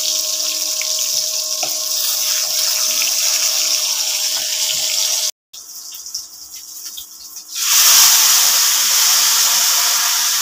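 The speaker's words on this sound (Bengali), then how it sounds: "তরকারিটা ঢেলে দিব এখানে।" Vegetable curry is poured into a hot pan holding fried fish, giving a broad, steady hiss that cuts out briefly and then surges into a louder sizzle as the liquid hits.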